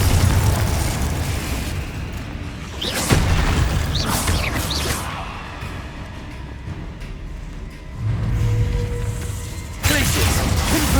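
Confringo fire-blast spells from the game Hogwarts Legacy burst in several loud booming explosions, with dense rumbling game noise between them.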